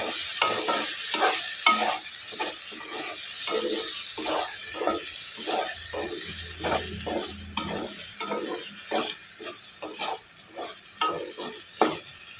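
A spoon or spatula stirs prawn curry in a pan, scraping in a steady, repeated rhythm over a soft background sizzle. It is close and clear, with no talking.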